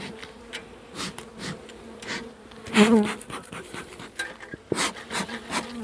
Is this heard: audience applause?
no